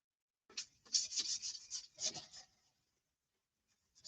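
A surface being hand-sanded with 400 grit sandpaper, a series of close, quick raspy strokes in a burst, then a pause and a brief final rub.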